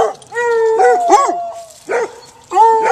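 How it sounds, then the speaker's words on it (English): Several foxhounds at a Boxing Day hunt bay and howl in long, wavering cries, with short barks breaking in between; close and loud, with brief pauses between bursts. "I'm trying to distract the dogs, Hancock."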